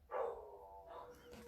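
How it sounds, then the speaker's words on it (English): Dogs barking indoors at a window: a single faint, short bark followed by a softer second yip, heard at a distance with no talking. "Oh, now they're both barking."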